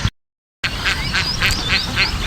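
Many ducks at a village pond quack in a quick repeated series of nasal calls, fairly close and loud, after a brief cut to silence near the start.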